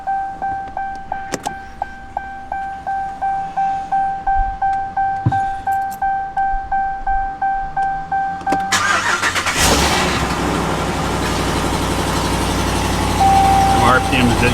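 RAM 1500 pickup truck fitted with new coil packs cranks with a rhythmic starter churn and warning chimes, then catches and roars into a loud, rough revving idle close by.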